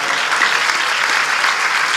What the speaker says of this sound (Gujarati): એને જોરદાર તાળીઓના નાદ સાથે વધાવો.